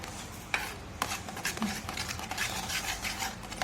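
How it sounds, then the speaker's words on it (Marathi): A spoon stirs raw mango paste in a dish with soft, continuous scraping and occasional light clinks, quiet and close. "आणि एक जीव होईपर्यंत आपल्याला पाच एक मिनिट हलवायचंय त्याला"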